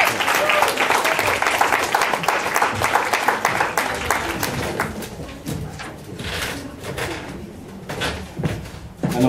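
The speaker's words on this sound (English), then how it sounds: "Let's give a hand clap to Mr." An audience claps for a keynote speaker at a Black History Month event, dense applause at first that thins and fades out over several seconds.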